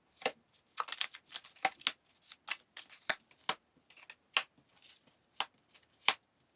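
Tarot cards shuffled by hand in a quiet room, a run of crisp papery riffles and flicks coming in uneven bursts, close and fairly loud, with no voices.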